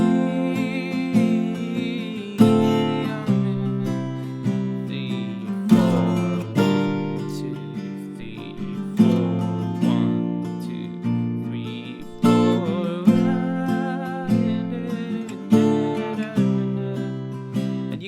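A guitar plays a chord progression with brief passing chords slipped in, steady and close, each strum ringing out before the next.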